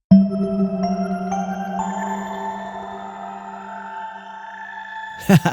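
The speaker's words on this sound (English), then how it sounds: "I'm enhancing this melody line with another sound from the Pink Sun here." A sustained synthesizer tone from a Pink Sun instrument glides through a slow, stepwise melody, bright and otherworldly, ending with a short burst of noise.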